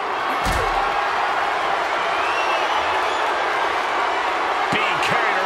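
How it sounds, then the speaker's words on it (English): A heavy door slams during a WWE 2K24 ambulance match between Nia Jax and Rhea Ripley, one sharp impact early on, heard amid a steady roaring arena crowd with a few more thuds near the end. "Pushing with every fiber of their being to slam the door."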